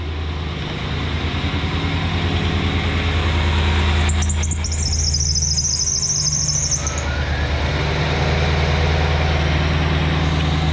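A 1993 Cadillac Fleetwood with a 5.7-litre 350 V8 idles steadily with a deep, even rumble, while a high, thin serpentine belt squeal rises over it for a few seconds mid-way and then fades.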